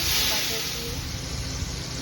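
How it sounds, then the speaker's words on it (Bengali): Chicken sizzles steadily in coconut oil and butter, an even hissing fry under a person talking nearby. "চিকেনগুলো ভাজা হচ্ছে"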